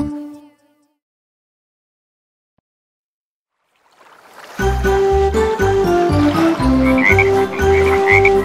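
Cartoonish frog croaks sound in a children's nursery-rhyme song about five little speckled frogs. They come in a bouncy rhythm over loud music after a near-silent gap, following a brief faint tone at the start.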